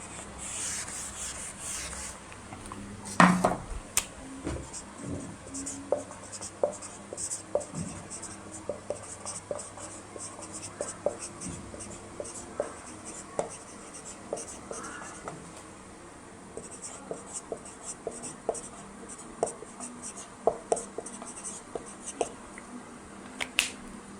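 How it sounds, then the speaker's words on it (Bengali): Chalk or marker scratching across a board during a geometry lesson, quick irregular strokes and taps close by, continuing steadily with short pauses between words being written. "আমি একটু উপরে লিখি তাহলে।"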